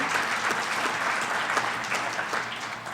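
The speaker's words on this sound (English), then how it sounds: "Please give her a round of applause." An audience at a higher education event gives a round of applause, dense and steady clapping filling the room at close range throughout.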